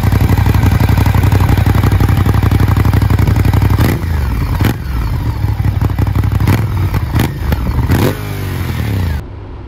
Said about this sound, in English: I have no idea how Ducati came up with a legal exhaust that sounds like this.